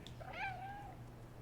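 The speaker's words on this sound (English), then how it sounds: "They meow to communicate with us," A single clear, rising-then-falling meow from a cat in the video game Stray, brief and moderately close over a low background hum.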